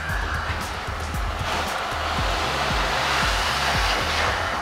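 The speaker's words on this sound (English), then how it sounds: "Supersized pressure washers, supersized vacuum cleaners." Large industrial pressure washers and vacuum cleaners work on a ship, producing a constant loud hissing roar with repeated low thumps running underneath.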